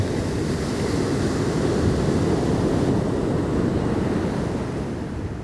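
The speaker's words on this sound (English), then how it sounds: "enjoying the sounds of the ocean" Ocean surf rolls onto a Southern California beach, a loud, continuous broadband wash of breaking waves mixed with wind rumble, steady throughout with no voices.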